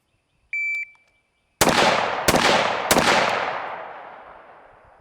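A Bushmaster A2-style Model 727 clone rifle fires three loud, sharp shots about a second apart outdoors, each crack trailing into a long echoing decay, with a short electronic beep tone just before.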